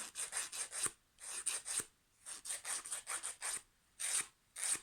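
Fingernails filed during a manicure, with both hands done at once: rapid dry rasping strokes come in close, steady bursts separated by brief pauses, with no talking.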